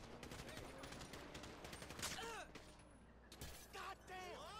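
Gunfire from a police officer's automatic weapon in GTA 5, a dense burst of rapid shots mixed with game noise and crackling, fairly loud and close, with voices talking over parts of it.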